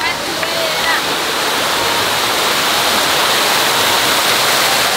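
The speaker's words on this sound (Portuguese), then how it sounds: "Cachoeira, cachoeira." A water park waterfall attraction pours in a loud, constant roar of falling water that fills the whole clip, with faint voices and shouts partly buried beneath the spray.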